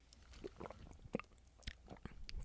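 People sipping and swallowing water from a cup, heard as a string of close, quiet gulps and mouth clicks spread across the moment, with no talking.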